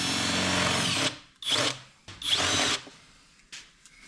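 A power drill with a stepper bit bores out a dent: a loud, continuous whine, then several shorter bursts of drilling with brief pauses between them.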